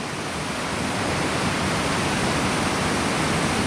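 A canyon river rushes loudly and steadily, a dense continuous roar of churning water close by with no break across the whole stretch.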